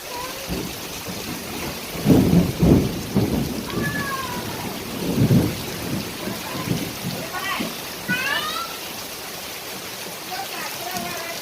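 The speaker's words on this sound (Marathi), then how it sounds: "थोडा पाऊस आलाय" Steady rain falls throughout with low thunder rumbles rolling in, while people talk and laugh nearby over the downpour.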